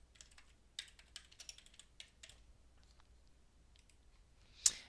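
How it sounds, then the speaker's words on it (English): Typing on a computer keyboard, a quiet run of uneven key clicks in small bursts with one sharper click near the end, no voices. "let's maybe type some text here"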